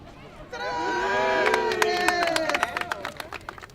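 A large crowd gathers outdoors for the grand opening celebration of Kemp Mill Urban Park, with overlapping voices and children's calls, plus scattered claps and bumps, moderately close.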